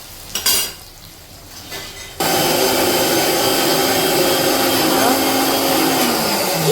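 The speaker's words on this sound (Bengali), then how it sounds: "কি পেস্ট হচ্ছে এত ঘর ঘর ঘর ঘর? মেশিনটা লুজ হয়ে গেছে মনে হয়।" A mixer grinder with a loose-sounding machine grinds paste in a home kitchen, starting abruptly after quieter kitchen noises and then running as a loud, steady whirring drone.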